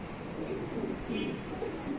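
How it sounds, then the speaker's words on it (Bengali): A pair of Mundiya pigeons coo softly nearby in low, rolling murmurs against a quiet background. "এখানে আছে এক জোড়া মুন্ডিয়ার কবুতর দেখেন"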